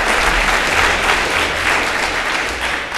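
Dense, steady audience applause for a speaker at a Python conference lightning talk session, a full room clapping loudly and evenly throughout.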